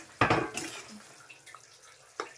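A metal lid clanks off a pot of boiling potatoes in a home kitchen, one sharp clatter followed by faint bubbling and a light knock later.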